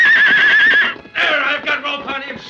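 Silver, a roped horse, rears and neighs in fury: a loud, close, shrill whinny with a wavering pitch, then a second rough neigh.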